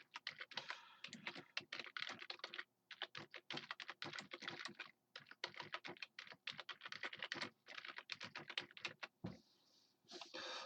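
Rapid keystrokes clatter on a computer keyboard in quick bursts separated by short pauses, close and crisp with no voices.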